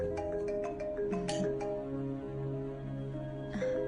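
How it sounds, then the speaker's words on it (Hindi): A phone ringtone plays a quiet melodic pattern of repeating electronic tones, with no other sound. "आप फोन क्यों नहीं उठा रहे?"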